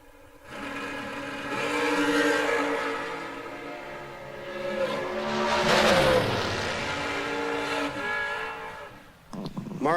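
Drag racing cars at a strip event, engines roaring loudly with rising and falling revs and whining harmonics, one 632-cubic-inch Chevrolet-powered Miller chassis dragster among them, sustained and close with a sharp burst near the end.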